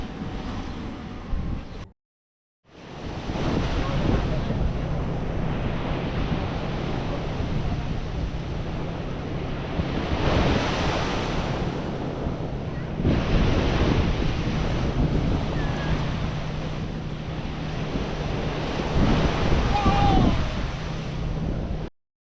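Sea waves break and surge at Al Mamzar Beach in Dubai, a steady roar with gusty wind buffeting the microphone and periodic swells cresting louder after a brief silent gap near the start.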